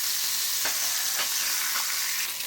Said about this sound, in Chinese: 就放入剁好的鱼骨煎制。